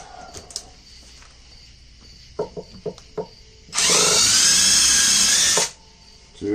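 A power drill bores a hole through the finished body of a Musalady guitar kit: a loud, steady whine lasting about two seconds, preceded by a few light taps and clicks.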